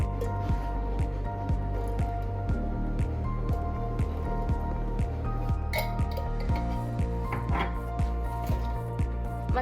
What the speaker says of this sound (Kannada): ಈಗ ಒಂದು ಪಾತ್ರೆಗೆ ನಾನು 2 ಟೇಬಲ್ ಸ್ಪೂನ್ ತುಪ್ಪ ಹಾಕ್ತಾ ಇದ್ದೇನೆ.